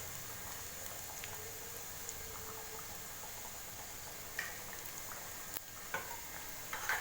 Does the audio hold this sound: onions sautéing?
yes